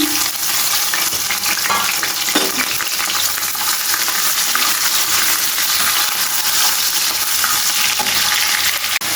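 Onion, garlic and green chilies fry together in hot oil, giving a loud, steady, dense sizzle that fills the whole stretch, with occasional faint stirring clinks and no talk.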